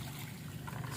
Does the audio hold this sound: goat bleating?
no